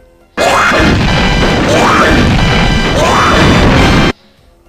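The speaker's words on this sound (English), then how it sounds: "Dogadon's fireball chucking sound is different" Loud, dense crashing blasts repeat three times in a row, each with a rising whoosh, as the Dogadon boss hurls fireballs in a Donkey Kong 64 beta.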